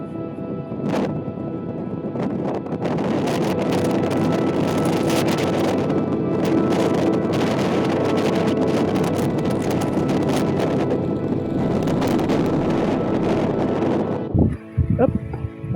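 Wind buffets a microphone on a mountain trail in Slovakia's Malá Fatra, a loud continuous roar with gusty surges that drops out near the end, while someone talks.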